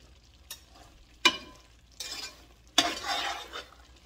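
Thickening coconut drops sugar mixture in a pot gets stirred with a spoon in four separate scraping strokes, each a loud close scrape that fades out, with quiet pauses between.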